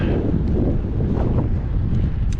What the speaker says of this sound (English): the wind's real in our face